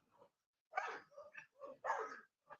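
Several dogs bark in short, irregular bursts at moderate distance, a few yips and rough woofs separated by brief silences, with no speech.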